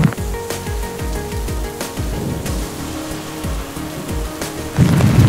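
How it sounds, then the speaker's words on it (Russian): Rain patters steadily while gusty wind thumps and rumbles against the microphone in repeated low bursts, growing louder at the end, in Murmansk Oblast, Russia. "несмотря на ветер и дождь"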